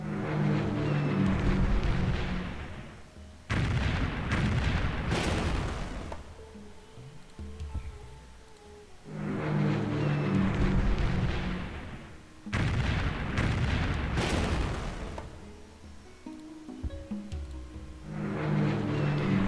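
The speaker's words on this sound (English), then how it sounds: "I don't think I ask too much for my Lancasters to actually hit the thing they're bombing." Lancaster bombers bomb a city in Civilization III, with heavy rumbling explosions and bursts of booming impacts arriving in repeated waves, loud and close, with quieter gaps between the volleys.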